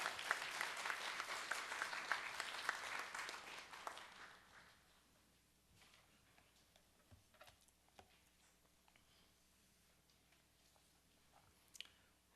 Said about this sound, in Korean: 축복의 박수로 한번 맞이하겠습니다